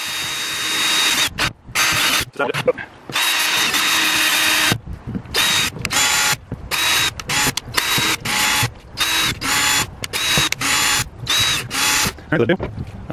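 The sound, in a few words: power drill drilling holes in plastic compost tub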